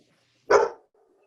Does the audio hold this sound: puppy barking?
yes